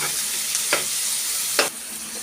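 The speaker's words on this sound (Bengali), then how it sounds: "তো তাই সবগুলো মিশিয়ে নিলাম" Vegetables fry in a pan with a steady low sizzle, while two distinct stirring scrapes cut through it, close and quiet.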